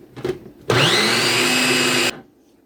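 A blender bottle whips cream cheese and a single egg in one loud, steady burst of motor whir lasting about a second and a half, then cuts off abruptly.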